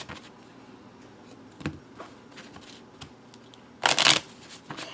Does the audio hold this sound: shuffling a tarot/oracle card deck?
yes